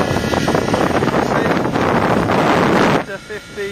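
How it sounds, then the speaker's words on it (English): Strong, blustery wind roars across the microphone at a model helicopter flying field, with a Raptor 50 model helicopter in the air; the gusting buffets loudly and steadily for about three seconds, then drops abruptly to a quieter lull. "Very blustery conditions today."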